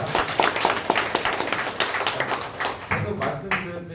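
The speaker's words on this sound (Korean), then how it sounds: "뜨거운 박수 부탁드립니다" An audience at a Gumi urban regeneration residents' education session claps loudly after a question-and-answer period, with sharp, overlapping hand claps. Voices talk over the clapping, and it thins out toward the end.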